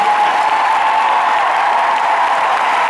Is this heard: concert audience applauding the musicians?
yes